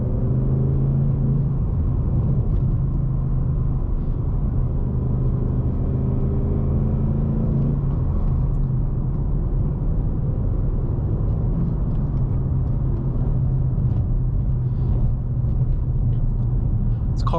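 Deep, steady engine rumble from a 2019 Ford Mustang Bullitt with a 5-liter V8 and six-speed manual, heard from inside the cabin as a low continuous drone with slight rises in pitch.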